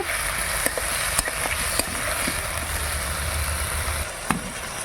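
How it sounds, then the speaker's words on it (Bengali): Ingredients for a fish curry fry in a pan with a steady soft sizzle, punctuated by a few faint clicks and scrapes of stirring. "এবার অল্প করে কষে নেব"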